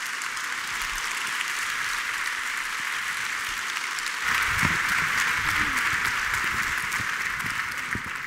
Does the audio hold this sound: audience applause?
yes